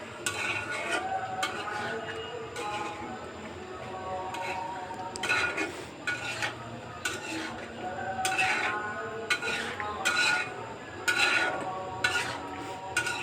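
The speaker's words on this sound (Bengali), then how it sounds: "তো এখন আমি এটাকে খুব ভালো মতো নেড়ে নেব, ভালো করে কষিয়ে নেব।" Goat liver being stirred and browned in a cooking pot, with repeated metal spoon scrapes and clinks against the pot in an irregular rhythm over a low, quiet sizzle.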